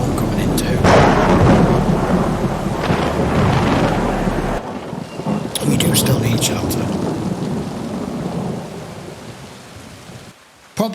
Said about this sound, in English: that's a hell of a storm coming in too